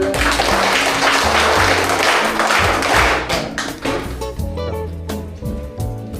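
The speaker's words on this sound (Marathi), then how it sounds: "टाळ्या वाजव सगळे." Schoolchildren clap together in a classroom, a dense burst of applause that loosens into scattered, uneven claps and thumps toward the end.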